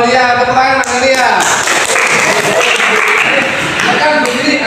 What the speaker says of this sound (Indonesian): tepuk tangan Ananda Aulia